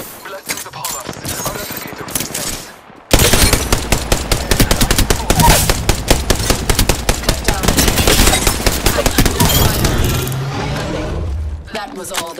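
Rapid automatic gunfire in a video game, loud and sustained in dense bursts for most of the clip after a quieter opening, with battle sounds throughout.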